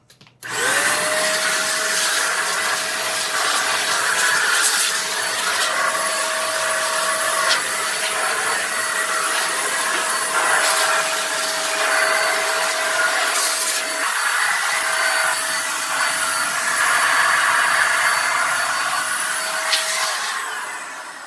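A DataVac ED500 electric duster blows out a home computer area indoors with a loud, steady high-pitched whine that runs continuously for about twenty seconds, close and alone with no talking.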